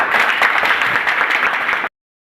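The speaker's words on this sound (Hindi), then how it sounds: "नए लोगों का स्वागत एक जोरदार ताली के साथ होनी ही चाहिए" Loud, close applause from a group at a Bhojpuri film launch ceremony claps steadily for nearly two seconds, then cuts off abruptly into silence.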